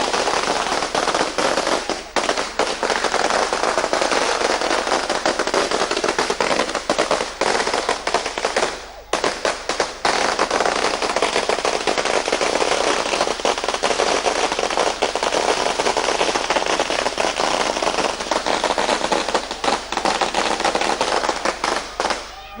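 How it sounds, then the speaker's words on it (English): Firecrackers burst nonstop at a street celebration, a loud, dense crackling barrage of rapid pops that runs for over twenty seconds with only a brief dip midway. "this celebration is going up just a notch with the firecrackers also starting"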